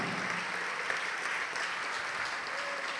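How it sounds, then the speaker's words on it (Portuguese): A church congregation applauds steadily, a dense wash of clapping from many hands at a moderate distance, continuous and even from start to finish. "Vamos aplaudir mais ao nome de Jesus"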